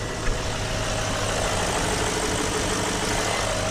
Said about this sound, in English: What we're going to do now is start the engine.